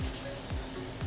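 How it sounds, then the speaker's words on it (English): Chicken breast laid in a hot frying pan gives a dense, steady crackling sizzle, close and continuous throughout the brief moment. "So the sound that you're looking for is that nice sizzle."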